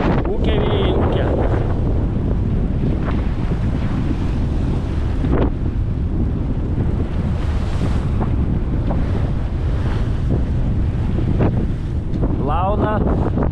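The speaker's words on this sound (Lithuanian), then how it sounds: "Ūkė vėjai, ūkė." Strong wind and waves on a sailboat at sea near Svalbard, with heavy, constant wind buffeting the microphone and waves washing and splashing against the hull, loud and close.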